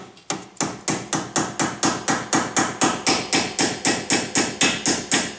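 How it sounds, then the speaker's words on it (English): A light hard hammer tapping brake parts into place during a Brembo front pad and rotor swap on an S550 Mustang Performance Package, about twenty sharp metallic taps at a steady, even rhythm, close and loud. "I'm just going to use a light hard hammer, and you just want to tap them back in"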